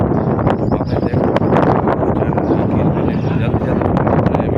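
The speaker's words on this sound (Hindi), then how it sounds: "हवा चल रही है ठंडी" Cold wind blows steadily outdoors, a loud continuous rushing roar buffeting the microphone, with someone talking over it.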